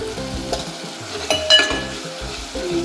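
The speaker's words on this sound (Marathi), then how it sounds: "वाटण छान परतून घेऊया." Ground masala paste with turmeric and asafoetida frying in a pan for a Maharashtrian masvadi rassa curry, with a steady close sizzle, a few utensil clinks and scrapes as it is stirred.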